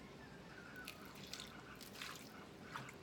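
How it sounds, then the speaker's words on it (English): Plain vinegar is poured in a thin trickle onto cut cucumbers, faint liquid drips and splashes sounding softly over quiet room tone. "I'm using just plain vinegar, and I'm just putting a little bit in there,"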